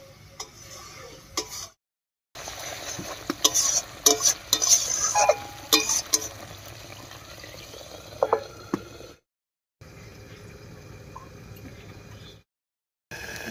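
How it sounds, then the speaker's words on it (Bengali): Masala for an egg and pointed gourd curry is stirred in a frying pan, with a soft background sizzle and bursts of scraping, clicking spoon strokes against the pan, close and fairly quiet. "এবার একটু ঢাকা খুলে মশলাটা নাড়িয়ে নেব।"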